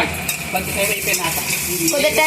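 Green chili and ginger paste fries in a pan, giving a close, loud sizzle with spatula stirring and scraping against the metal throughout.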